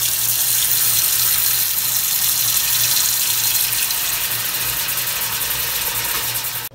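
Cold water runs from a kitchen tap into a cooking pot with salt cod, a loud steady broadband rush that holds for several seconds before cutting off abruptly at the end.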